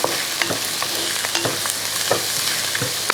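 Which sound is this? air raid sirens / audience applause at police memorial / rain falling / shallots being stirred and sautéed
shallots being stirred and sautéed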